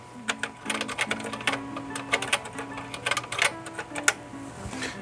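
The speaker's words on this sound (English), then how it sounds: "And then I can just start typing." Keys clatter on a SWTPC CT-1024 TV typewriter terminal keyboard, a quick irregular run of crisp clicks close up, with short pauses and a steady low hum underneath.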